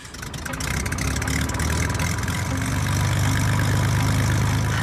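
Cessna 172 light airplane engine idles steadily while taxiing, a close, continuous low droning hum that rises slightly and holds without a break.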